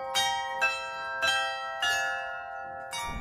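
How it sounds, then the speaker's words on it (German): Salzburg Glockenspiel, a carillon dating from around 1700, rings out with clear, loud bell strikes at a steady, unhurried pace, each tone sustaining and overlapping the next with no voices. "Das Salzburger Glockenspiel war ein sehr frühes, ist um 1700 entstanden"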